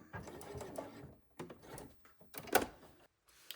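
Sewing machine backstitching the end of a seam on a crossbody bag, short close whirring runs broken by brief pauses as the stitch direction reverses.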